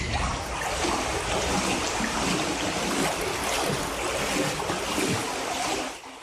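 Hurricane storm surge pounds a coastal pier in South Carolina, a loud, continuous roar of churning water and wind with no break.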